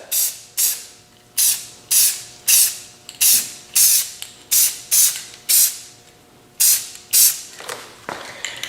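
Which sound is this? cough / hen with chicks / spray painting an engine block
spray painting an engine block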